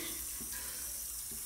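Water runs steadily from a tap, a constant hissing flow with no voices, fairly quiet and close.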